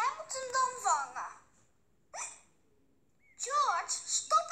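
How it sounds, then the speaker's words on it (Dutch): A cartoon pig voiced in a Dutch dub hiccups in short bursts between lines of a child's speech. "stop eens met die hik."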